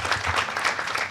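Audience at a natural gas forum applauding to welcome a speaker, a steady burst of many hands clapping in a hall.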